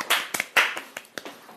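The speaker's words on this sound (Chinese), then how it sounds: "鼓掌！" Scattered hand claps from a few people in a TV variety-show kitchen, sharp and uneven, a handful of claps over about a second and a half.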